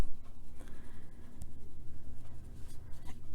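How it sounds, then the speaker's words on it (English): A black colored pencil scratches over an adult coloring page, darkening a basket with a soft, rhythmic back-and-forth scribbling that stays close and fairly faint. "I got a black pencil. Darken up inside the basket here"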